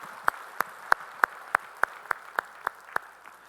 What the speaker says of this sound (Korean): 우리의 찬양을 받으신 주님께 영광의 박수 올리겠습니다.